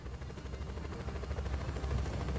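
Helicopter in the video game Just Cause: a steady low rotor drone with a fine rapid chop, even and fairly loud throughout, no voices.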